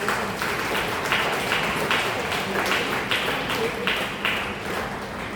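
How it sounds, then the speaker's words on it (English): Steady applause from a college lecture audience welcoming a speaker fills the clip, continuous and moderately loud with a lively, even texture throughout. "Let us give a big round of applause as we welcome Dr. Bhargava ma'am to the stage."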